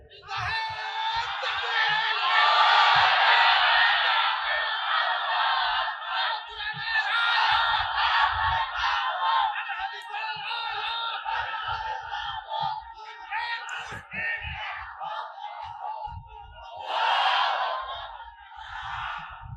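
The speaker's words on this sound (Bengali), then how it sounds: "আওয়াজটা ফারাক্কার ওই পাড়ে দেন, জোরে তাকবীর দেন" A large crowd at a religious sermon gathering roars the takbir chant in unison, a loud, sustained collective shout that swells, fades and rises again in a second burst.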